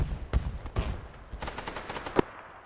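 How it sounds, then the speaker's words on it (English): Gunfire in ArmA 3: several sharp single shots and short bursts, some distant and some nearer, scattered irregularly across a quiet outdoor background with no talking. "Shots coming in from north."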